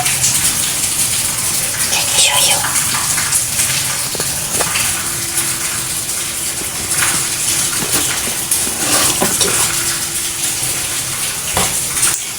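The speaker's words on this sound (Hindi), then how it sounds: "फिर हम अपना दूध डालेंगे" Milk pours into ground Oreo cookies for a cake batter, a continuous splashing gush with small clinks and taps, close and fairly loud throughout.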